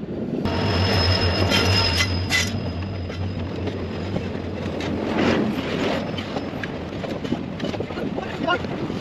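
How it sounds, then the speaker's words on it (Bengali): An express train passes close by with a loud, continuous rolling rumble, metallic wheel squeal and a sustained tonal hum, while people talk faintly beneath it. "মানে এটা এক্সপ্রেস আইতাছে এদিকের থেকে"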